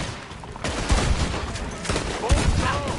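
Rapid gunfire from a shootout in the online mode of Red Dead Redemption 2 crackles in quick overlapping volleys, several sharp shots close by and others further off, with voices shouting in the mix.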